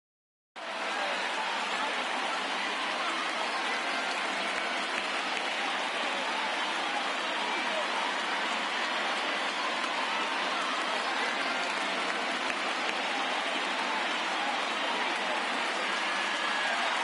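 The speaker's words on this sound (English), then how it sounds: "There is rain in the area" Steady, dense hiss of rain falls in a baseball video game broadcast on PS4, an even wash beginning abruptly and holding at constant loudness without any voices.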